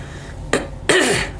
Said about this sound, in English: I can't clear my throat